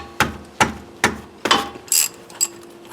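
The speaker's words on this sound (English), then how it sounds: "Little rusted bolts where you can't get the wrench on it." A ratchet wrench works the rusted caliper bolts on the brakes of a 2010 Subaru, with about five sharp ratcheting strokes at a steady, close rhythm and no talk.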